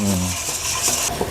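A spoon scrapes and swirls briefly through a brown rice soap mixture with glycerin added, a short close stirring sound with no talk.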